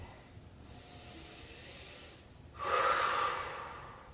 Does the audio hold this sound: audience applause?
no